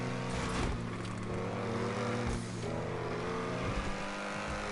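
A car in GTA 5 Online drives with a steady engine drone that rises and falls as it revs, with brief surges and no speech over it.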